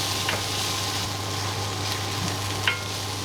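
Sausages frying in a pan, a steady hiss of sizzling fat with a low hum beneath and a few brief clicks as they are moved around.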